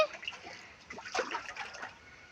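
A baby splashes and paddles in a small home swimming pool set up for bath time, giving soft, close, irregular water slaps and trickles at low volume with short pauses between bursts.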